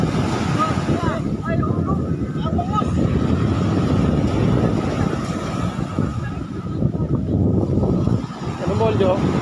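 Diesel boat engine on a fishing boat running steadily close by, a continuous low rumbling drone under wind noise and talking voices throughout.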